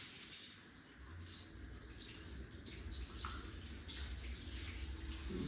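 Running water pours into a bath while a cocker spaniel is shampooed, a continuous soft splashing rush with faint trickles and dripping, fairly quiet and steady throughout.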